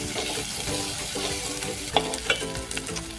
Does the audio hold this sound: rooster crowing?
no